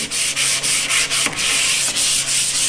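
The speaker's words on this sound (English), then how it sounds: "there is enough here for you to scuff it, to smooth it," Stained soft wood is sanded by hand between finish coats, a steady run of close, scratchy back-and-forth strokes with short pauses where the stroke changes direction.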